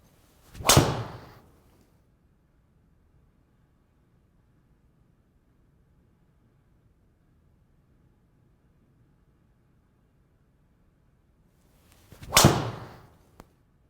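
A Tour Edge Exotics C721 driver strikes a golf ball twice, each a sharp, bright crack followed by a short ringing decay. The two impacts are about eleven seconds apart, with quiet outdoor ambience in between.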